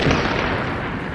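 Frag grenade explosion in the shooter game The Division, a loud, dense broadband blast that fills the whole moment with a sustained rumbling roar and no break or talk over it.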